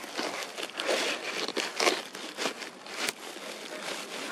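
Close crinkling and rustling of a plastic bag being rummaged through for a fish, steady handling noise with brief louder crunches throughout and no talk.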